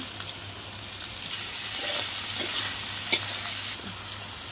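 Prawns stir-frying with chopped tomatoes in a hot pan give off a continuous bright sizzle, with soft stirring scrapes and one sharp utensil knock partway through.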